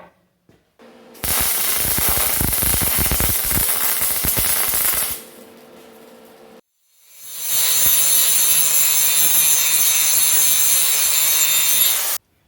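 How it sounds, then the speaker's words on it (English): A hacksaw cuts galvanized steel for a wood gasifier's cyclone separator in two long, loud, close stretches of rapid rasping strokes with a short pause between them. "I'm glad I only had to do the last bit with the hacksaw"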